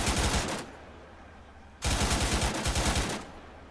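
An M240 7.62 mm machine gun mounted on a tank in a video game fires two rapid bursts, the first about half a second, then a pause, then a longer burst of roughly a second and a quarter, loud and close.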